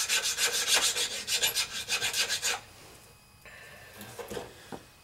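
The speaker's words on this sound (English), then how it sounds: "we'll get out our bastard file again and file it down." A bastard file rasps across a metal coin ring in firm, rhythmic strokes, about a dozen loud passes over two and a half seconds, followed by quieter scattered scraping and handling noise.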